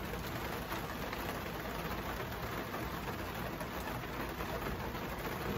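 Rain falls steadily outside, a dense, even hiss of drops on surfaces that continues without a break, loud and close.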